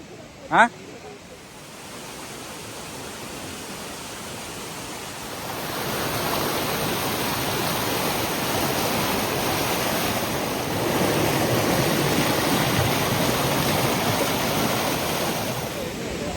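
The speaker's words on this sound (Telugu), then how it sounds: "సౌండ్ అయితే ఫుల్ వస్తుంది వాటర్ ఫాల్ది" Steady roaring rush of Glencar Waterfall in Sligo, Ireland fills the scene, growing louder partway through, after a brief sharp sound at the start; no voices.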